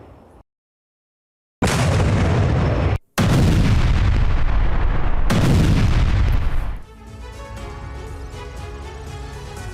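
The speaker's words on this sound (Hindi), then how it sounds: "हौवित्जर तोप से रूसी सेना ने धावा बोला है।" Russian howitzer artillery fires in Donetsk: two huge booming blasts, each one loud and close and followed by a long rolling echo that trails off into a lower rumble.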